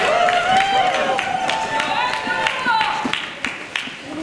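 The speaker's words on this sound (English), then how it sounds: "A nice round of applause for our speakers" Steady applause from an outdoor crowd at a Make Polluters Pay rally in Hartford, a continuous patter of claps lasting several seconds with a faint voice or tone riding above it.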